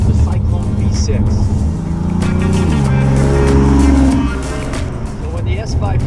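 A 2017 Ford Mustang S550 with the Cyclone V6 engine idles and revs up, a steady close engine drone rising in pitch mid-clip then settling, with someone talking over it.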